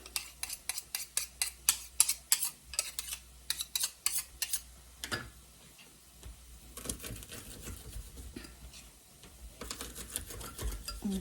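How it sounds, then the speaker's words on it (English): Garlic being minced in a garlic press, a run of sharp rhythmic clicks and squeezes repeating about twice a second, then a quieter scraping stretch before the clicking resumes, close and without talk. "This garlic press is so good."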